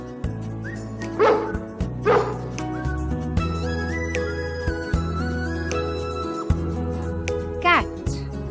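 A dog barks twice near the start, followed by a short whimper or yip later, set over a steady music backing in a children's educational setting.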